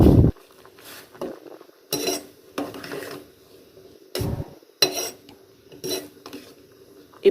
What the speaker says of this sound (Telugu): ఇంకా 1 tea spoon garam masala powder వేసుకుని బాగా మిక్స్ చేసుకోవాలి.